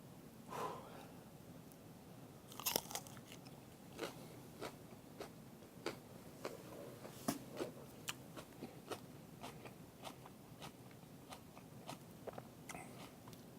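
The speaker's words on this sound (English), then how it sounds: "So now I'm going to eat this pepper and hope it's not as bad as I think it is." A hot pepper is bitten and chewed close to the microphone, a series of faint, irregular crunches and wet chomps spread over several seconds with a quiet hiss behind.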